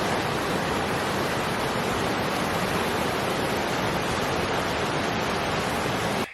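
A cold river rushes along the Pacific Crest Trail in Washington. Its steady, loud broadband roar of water runs unbroken and close for the whole stretch.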